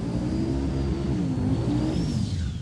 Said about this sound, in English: Let these pair of Novas do the burnouts.